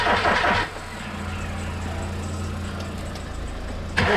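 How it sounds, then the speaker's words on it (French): Starter motor slowly cranking a Skoda Octavia 1.9 TDI diesel engine, a sluggish rhythmic churn that runs steadily for about four seconds after a brief louder burst at the start. "Ah, il est lent le démarreur, hein, il aime pas."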